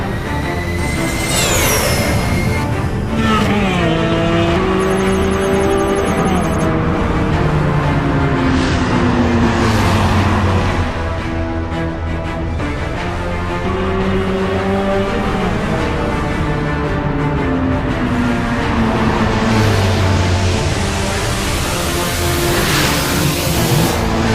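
A cartoon motorbike races through a tunnel with a loud, continuous engine roar whose pitch rises and falls in repeated revving sweeps, over a dense rumbling wash and no talking.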